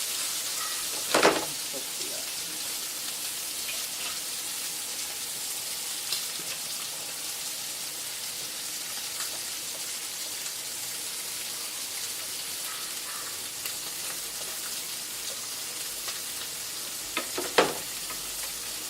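A scored pork chop pan-seared in a pan with apples, giving a steady, even sizzle for a long stretch, close, with a couple of brief clanks or stirs early and near the end.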